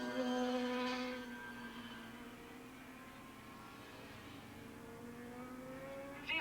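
Distant racing motorcycle engine, a big 4-cylinder Suzuki, droning with harmonic whine at a 1987 Grand Prix at Willow Springs International Raceway; loud at first, then fading lower and steady as it pulls away, with a faint rising note near the end.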